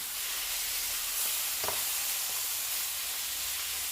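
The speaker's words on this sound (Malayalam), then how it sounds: "ഇനി നമുക്ക് നന്നായി ഒന്ന് വഴറ്റി കൊടുക്കാം" Cooked chicken and spices sauté in a pan with a soft, continuous sizzle, plus a brief scrape of stirring partway through.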